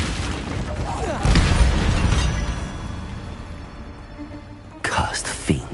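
A fire spell cast in a PS4 game flares up as a loud whooshing burst with a dense, crackling roar that slowly fades, then a second sharp burst near the end, with game voices mixed in.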